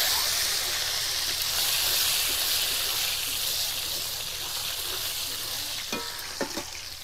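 Chopped tomatoes hit hot oil already used to fry rui fish and tempered with dried red chillies and nigella seeds. A steady, loud sizzle hisses throughout, and a few sharp utensil knocks come near the end.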